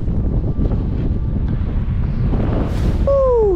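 Strong wind on a sandy shore, where waves carry blowing sand, roars as loud, steady buffeting against the microphone throughout, with surf mixed in beneath.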